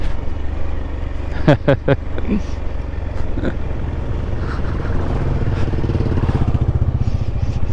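Motorcycles of a biking group on a mountain road rumble steadily in a constant, close engine drone, with people talking over it.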